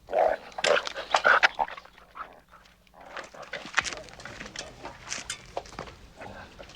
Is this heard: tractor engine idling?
no